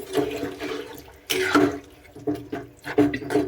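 Water splashes into a cooking pot of goat head curry, poured until the meat pieces are covered; a few uneven gushing bursts with short pauses, close and moderately loud.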